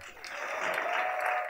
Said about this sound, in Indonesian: Tepuk tangan buat Indra.